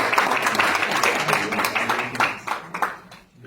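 An audience at an international conference applauds a speaker, with dense clapping that thins into a few scattered claps as it fades out.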